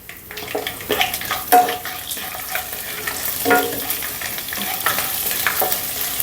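Garlic dropped into hot oil for a raw banana fry, a steady close sizzle with intermittent stirring scrapes and clacks of the spoon against the pan.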